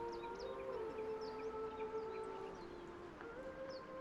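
Distant ethereal singing near the sea in the Baldur's Gate 3 video game, sustained wavering vocal tones drifting and gliding in pitch, faint and eerie over a soft ambient hush.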